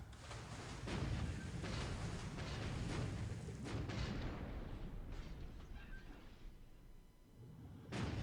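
Depth charges, type 95 mod 2, exploding around an enemy submarine in a World War II naval strategy game, heard as a long series of deep rumbling underwater blasts that overlap and roll on for several seconds, then one more burst near the end.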